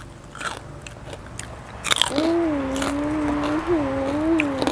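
Crunchy bites of spicy papaya salad with fresh shrimp and fermented fish sauce, eaten at close range, followed by a drawn-out hummed vocal tone over continued quiet mouth sounds.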